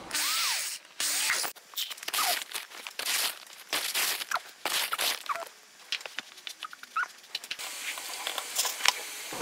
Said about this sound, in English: I'm drilling identical holes in these two yogurt containers.